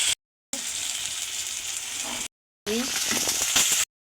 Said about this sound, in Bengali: সরিষার তেল গরম হয়ে গেছে, এখন দিলাম পেঁয়াজ, রসুন বাটা